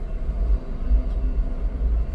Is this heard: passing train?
yes